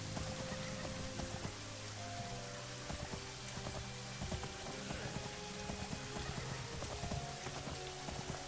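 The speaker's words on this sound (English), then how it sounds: "this might be the first time I've seen like lightning and thunder. We've seen rain before" Rain pouring in the video game Daggerfall Unity during a thunderstorm, a dense steady wash of rainfall with scattered clicks and soft low rumbles underneath, continuous and fairly loud.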